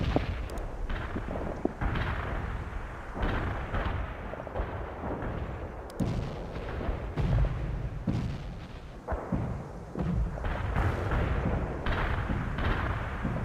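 Cluster bomb strikes in the World in Conflict video game set off a dense run of booming explosions and crackling blasts, layered and continuous, with scattered heavier thuds amid battle noise and no talking.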